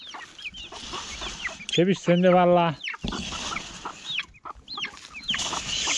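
Chickens clucking and squawking close by while being fed barley by hand, several bursts of cackling with one loud drawn-out call, while someone speaks and shushes over them.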